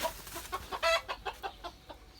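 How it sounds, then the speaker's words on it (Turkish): Turkeys in a backyard clucking in a quick run of short, close, fairly soft calls, one slightly louder note in the middle. "Burada da Hint horozlarım var."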